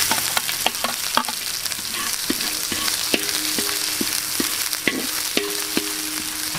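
Onion sautés in a pan with garlic for beef ribs, a constant close sizzle under frequent sharp clinks and scrapes of a metal spatula, stirring at an uneven quick rhythm, with no talk.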